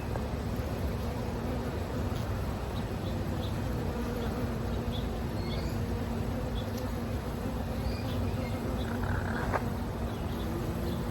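Honey bees swarm around hives, some robbing nectar from empty boxes during fall, producing a steady, dense buzzing drone that fills the whole stretch without pause.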